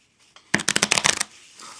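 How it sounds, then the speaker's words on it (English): A deck of playing cards is riffle-shuffled close up for a card trick, a fast burst of crisp fluttering clicks lasting under a second, loud and alone with no talking. "So I'm going to go ahead, shuffle the cards."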